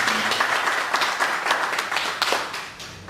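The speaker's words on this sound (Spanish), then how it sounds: "le damos también un aplauso" An audience applauds at a round-table panel on new technologies and community action, giving several seconds of close, lively clapping with distinct sharp claps standing out against the steady din.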